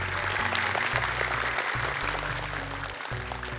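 An audience at a children's Islamic quiz event claps steadily, a dense burst of applause continuing throughout at moderate volume.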